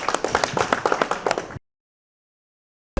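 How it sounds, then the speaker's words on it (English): Audience applause at a KGF 2 press meet: a burst of dense clapping from a crowd for about a second and a half, then it cuts off into silence before a brief return at the end. "A huge round of applause."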